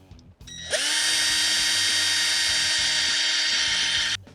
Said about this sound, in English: now I'm going to drill the hole for the peg and a little bit deeper into the leg